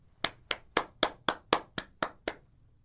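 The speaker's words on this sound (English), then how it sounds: "Can you clap for yourselves?" A small group of primary school students claps in unison, nine sharp, evenly timed claps in quick succession, close and clear, with no talking.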